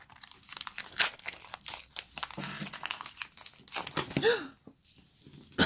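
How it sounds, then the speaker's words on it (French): A Pokémon card booster pack being torn open by hand, with crinkling and tearing of the foil wrapper in a quiet room, bursts of rustling and crackle over several seconds. "On va ouvrir ce booster."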